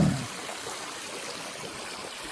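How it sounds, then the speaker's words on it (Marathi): Irrigation water flows from holed PVC pipes into sugarcane furrows, a steady, even rushing trickle close by, after a brief low thump at the start. "होल मारून प्रत्येक तासाला पाणी जातं आहे"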